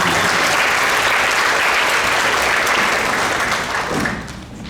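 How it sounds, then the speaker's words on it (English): A school concert crowd gives the band students a full round of applause, loud dense clapping sustained for several seconds before thinning and fading toward the end. "One more round of applause for them."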